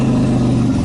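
A motorcycle engine on a freeway gives a brief, loud, steady droning hum with a strong low tone, close by and alone.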